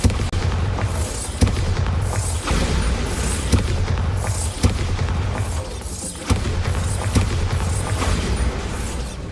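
Bombarda spell explosions in the Hogwarts Legacy video game: a string of heavy, booming blasts goes off roughly every second, each with a deep thud and a crackling, hissing tail.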